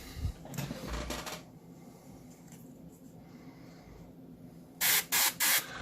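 An airbrush running at about 22 psi sprays paint onto Warhammer 40k Necron miniatures, with a hissing burst at the start and three short sharp sprays at the end, close and loud against a quieter hum.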